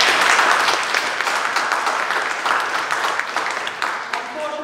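An audience claps at a mayoral hustings event in Leicester, a broad, sustained round of applause that stays fairly loud and even from start to finish, with no voice over it.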